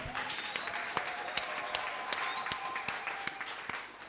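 A church congregation at a Sunday service claps in a steady rhythm, sharp regular beats over a soft bed of murmuring voices.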